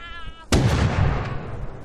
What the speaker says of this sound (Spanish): ¿y esas explosiones?